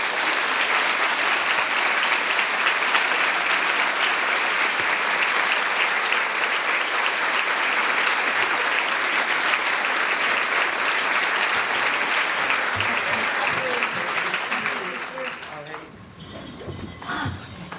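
A dinner audience at an equality gala applauds to welcome speakers, with dense, sustained clapping for about fourteen seconds before it thins and a voice begins talking.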